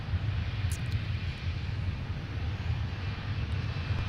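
A Boeing 737 jet passes at Minneapolis–Saint Paul airport, giving a steady low engine rumble and broadband roar with a faint higher whine, fairly close and uninterrupted by speech.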